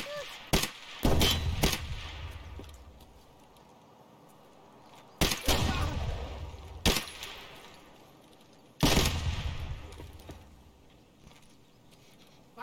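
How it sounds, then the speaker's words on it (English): Gunshots in Escape from Tarkov crack in sharp clusters, a few quick rounds at a time separated by quiet stretches, each burst trailing off with echoing decay. "I exchanged gunfire with him."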